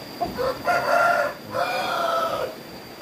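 Chickens at a poultry farm below a bamboo bridge near Ciamis, crowing and clucking in two drawn-out calls, fairly close and clear over a quiet outdoor background.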